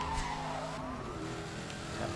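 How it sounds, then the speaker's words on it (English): Tires squeal in Need for Speed Hot Pursuit as a car is power-braked into a corner, a sustained screech with engine tone at moderate level, no voices. "Tap the power brakes and just peel around a corner."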